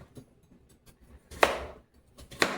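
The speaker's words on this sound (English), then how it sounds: "I'm just going to cut these into nice pieces too" A knife cuts butternut squash into pieces for roasting, giving a few sharp, close chops spaced a second apart with quiet gaps between them.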